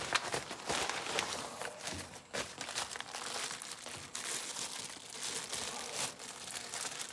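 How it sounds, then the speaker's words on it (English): Sticky packing tape being handled and crinkled while a Moto Alliance Viper V2 4500 wide-spool winch is unboxed, a steady close rustling and crackling with no voices. "Lots of good sticky tape."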